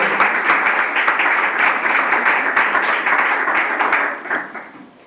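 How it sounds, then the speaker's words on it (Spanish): Loud applause from a church congregation, dense steady clapping that fades out over the final second. "Démosle un fuerte aplauso a ese Dios todopoderoso"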